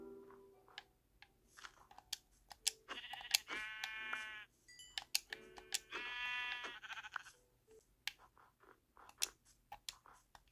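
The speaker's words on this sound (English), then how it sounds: "Ooh, sheep." Sheep in a survival video game give two clear drawn-out bleats amid chewing-like crunches and scattered clicks, close and fairly quiet, with no talk.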